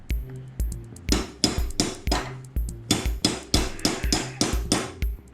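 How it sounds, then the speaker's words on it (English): Hammer blows on a motorcycle triple tree, a steady series of about a dozen sharp metallic strikes close up, evenly spaced and loud, with no talking. "Hammer over here, bop, bop, bop. Hammer on the front side."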